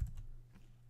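A few soft keystrokes on a computer keyboard, quiet and close, a brief cluster of clicks with low background hum.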